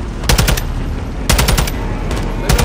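Automatic gunfire in the Call of Duty: Modern Warfare 2 (2022) video game, with three loud rapid bursts at roughly one-second intervals over a steady rumbling battle background.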